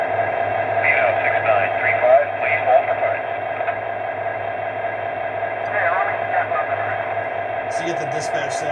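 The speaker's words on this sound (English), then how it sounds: "So you get the dispatch sound" A model train's onboard sound system plays its dispatch effect, a steady radio-like crackling chatter over a constant low hum, close and fairly loud for several seconds.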